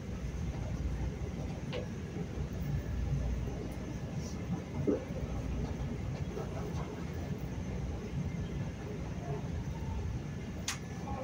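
A CTA Pink Line elevated train rolls between stations with a soft, steady rumble and faint wheel-on-rail rattle, quiet and continuous, with a few brief clicks and a short voice mixed in.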